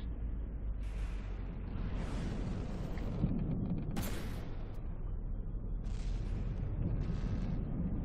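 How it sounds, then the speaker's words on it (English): Long-range missiles launch and strike in From the Depths, a series of muffled booms and rushing bursts spaced a second or two apart over a low rumbling background, fairly faint overall. "And there come the long range missiles."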